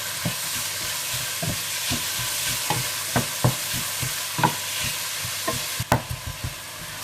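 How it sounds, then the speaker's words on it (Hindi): Onion and garlic sauté lightly in a pan, with a soft, steady sizzle and repeated sharp scraping taps of a spoon stirring, close up, with no talking. "और इसे हल्का सा सोते कर लीजिए।"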